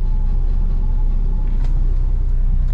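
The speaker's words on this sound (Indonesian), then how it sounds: "sekarang mobilnya dinyalain dulu idle supaya lem-lem tribun yang ada di gasket tadi panas dan mengering" A Honda Civic Ferio engine with a newly fitted 4-1 header idles close up. It gives a loud, steady low rumble that holds even for the whole stretch, with no voices.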